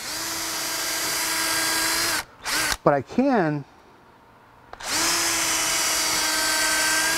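A power drill bores into a suspension bushing with a loud, steady high whine. It cuts off briefly while someone says a few words, drops to near silence, then starts up again and runs at full speed to the end.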